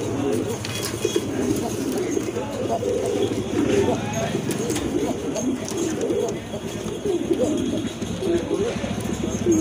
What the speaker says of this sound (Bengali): আসলে খুবই ভালো ডাকে কবুতরগুলো